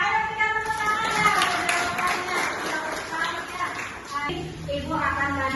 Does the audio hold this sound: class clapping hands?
yes